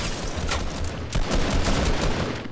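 Video game gunfire crackles in a rapid fusillade of overlapping shots, loud and dense, with a heavier burst near the middle and no talking.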